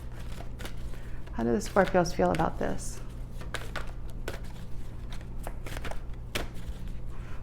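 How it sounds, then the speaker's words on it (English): A deck of tarot cards being shuffled close by, with soft irregular snaps and papery clicks scattered throughout, while a voice talks briefly near the start. "Why is it so hard to shuffle?"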